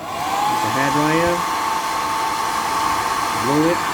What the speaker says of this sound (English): Use a hairdryer.